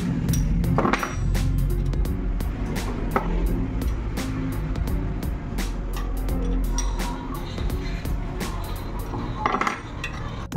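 Metal lock nuts being fitted onto a bicycle axle, a busy stream of small clinks, taps and scraping metal contacts at close range, irregular and steady throughout with no talk.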